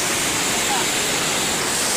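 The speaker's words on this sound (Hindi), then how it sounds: "ये झरना भी आएगा साथ में, ये झरना आ रहा" Waterfall along the Amarnath pilgrimage trek between Baltal and Chandanwari, a steady broad rush of falling water filling the scene with constant roar, no talk over it.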